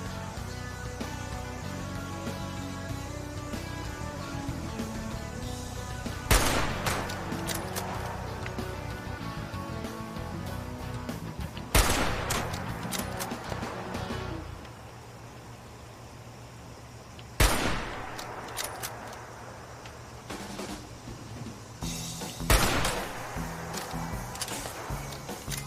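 Gunfire in Fallout 76 comes as four sharp, isolated blasts spaced about five seconds apart, standing out against a quieter, steady humming game background.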